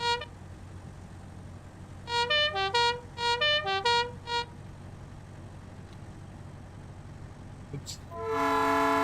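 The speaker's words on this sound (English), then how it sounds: "That's a train horn." A train-style air horn fitted to a truck in American Truck Simulator sounds in several quick bursts of stacked tones in the middle, then a longer sustained blast at the end, loud over a steady engine rumble.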